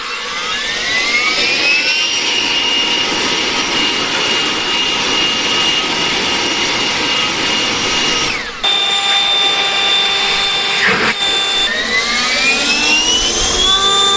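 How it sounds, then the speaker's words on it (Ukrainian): A 56-volt GTM AB56/1374BL cordless leaf blower roars continuously up close, blowing wet snow, with a high whining motor tone that briefly dips and shifts pitch partway through. "І звісно, що це буде повітродувка."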